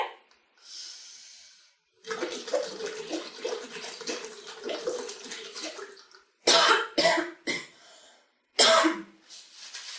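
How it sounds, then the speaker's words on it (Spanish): Several sharp, loud coughs in quick bursts, close to the listener, follow a long stretch of breathing out through a straw into water with steady bubbling, as in a nursing-class breathing exercise. "en el momento en el que me entren ganas de toser"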